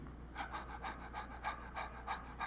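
A voice imitates ordinary normal breathing with a quick rhythmic series of about eight soft, breathy huffs, close and quiet, like light panting, with no words.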